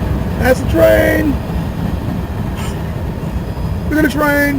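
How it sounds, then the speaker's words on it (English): A train passes by outdoors as a steady low rumble, with bright whistle-like or squealing tones at the start and again near the end. "Look at the train!"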